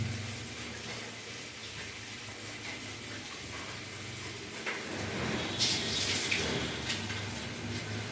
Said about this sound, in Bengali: চালটা আমি একটু ধুয়ে নেব